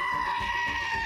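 Ram bleating: one sustained, wavering nasal bleat fills the whole short clip, loud and close with no other sound competing.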